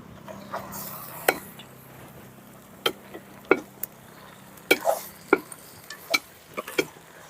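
Sharp knife chops of country chicken being cut into small pieces on a cutting board, about a dozen irregular strikes, close and crisp, over faint background hiss.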